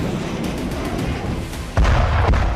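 Russian artillery fires near Kupiansk, with a heavy low boom landing amid a dense rumbling wash of noise, followed by lingering low rumble.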